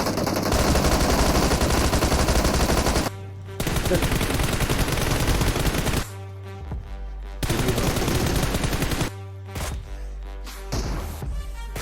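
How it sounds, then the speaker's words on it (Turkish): Rapid automatic gunfire in the mobile shooter game PUBG Mobile, loud sustained bursts broken by brief pauses, close and dominant with no voices. "Aha vurdum. Tekini baydım."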